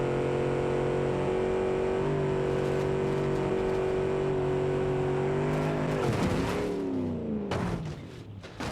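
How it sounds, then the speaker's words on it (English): Simulated car engine and exhaust from the Automation game, a W-250 gas build, holds a steady droning rev, then shifts and drops in pitch near the end before fading slightly. "She has a pretty good sounding exhaust for the most part."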